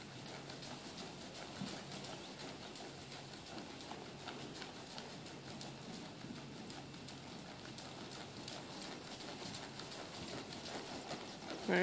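A ridden Missouri Fox Trotter horse moves at a steady gait, its hooves clip-clopping in a continuous, even rhythm at moderate distance with faint background ambience throughout.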